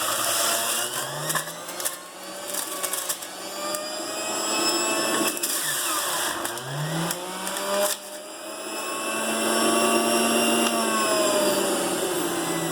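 Electric juicer whirs as it presses washed, trimmed greens into fresh green juice, a loud continuous motor hum that dips and rises in pitch as produce is fed in, heard close with no talking.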